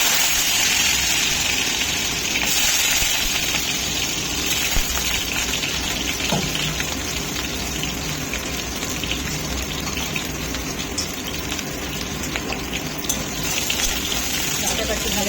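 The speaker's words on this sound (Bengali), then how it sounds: "ডাঁটাটা একটু ভাজা হয়ে যাবে" Vegetable stalks sizzle steadily in a hot pan, a dense continuous frying hiss with faint clatter, heard close over a kitchen background.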